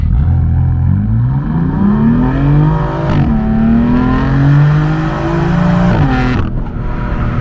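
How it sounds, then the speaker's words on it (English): A 2017 BMW M4 launches hard from a standstill in a 0 to 60 run, its engine note climbing loudly and steadily with two clear gear shifts along the way. "this car has serious traction issues, but when it hooks, it is so fast"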